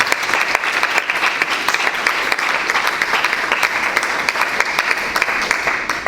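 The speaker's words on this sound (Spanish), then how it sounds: "Denle un aplauso y despierta." A church congregation claps loudly in sustained applause for about six seconds, a busy crackle of many hands with sharper individual claps standing out, no voices on top.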